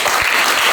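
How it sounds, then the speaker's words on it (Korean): Loud applause from students in a high school classroom during an entrepreneurship education session, a short, dense burst of clapping close to the microphone. "그 기념에서 박수 한번 칠까요?"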